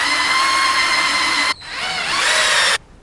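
A power drill boring two holes into a bed frame: a loud, steady whine that runs for about a second and a half, a brief pause, then a second burst of similar length, close by with no talking.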